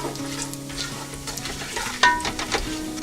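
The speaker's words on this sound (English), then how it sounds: "Fry it all together well." Whole spices, star anise, stone flower and bay leaf, fry together in a pan for chicken dum biryani, giving a close, steady sizzle broken by a few sharp stirring clinks, no one talking.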